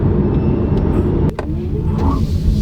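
A 2022 Kia Soul EV accelerating in Sport mode, with steady, loud road and motor noise from inside the cabin, a brief dip, then a faint rising whine as speed builds.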